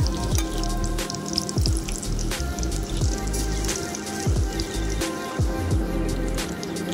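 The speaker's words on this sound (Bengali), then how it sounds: "এবার বাকিগুলিও ঠিক একই প্রসেসে আমরা ভেজে নেব।" Pointed gourd (potol) chops sizzle and crackle steadily in hot oil, a dense, close frying hiss with scattered pops and spits running throughout.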